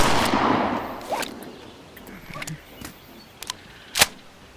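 A single-barrel shotgun in the virtual reality game Bonelab fires with a sharp crack near the end, after a few lighter mechanical clicks and handling noises.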